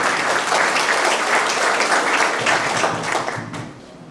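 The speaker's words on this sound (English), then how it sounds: "Round of applause." Audience of seniors at a community computer talk on AI applauding, a loud, full burst of many hands clapping that holds steady and then tapers off near the end.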